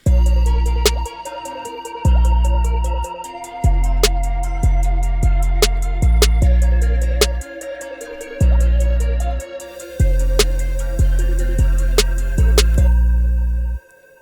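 A sustained synthesizer pad chord rings out over a steady, punchy beat with rhythmic bass hits, loud and continuous, with no voices.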